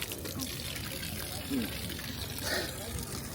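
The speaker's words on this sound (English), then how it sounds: "So we found a little water fountain" Water running from a public drinking fountain in Rome, a soft steady splashing flow heard close, with people talking over it.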